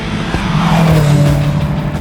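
A car on a racetrack, fitted with a brake setup under test, driven hard at speed, with a loud continuous engine drone that sweeps in pitch and hints of tire scrub, no talking.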